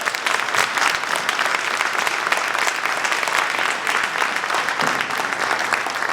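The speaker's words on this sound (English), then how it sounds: "Give them another round of applause, please" An audience gives a sustained round of applause at a family award presentation, a loud, dense and continuous clatter of many hands filling the room.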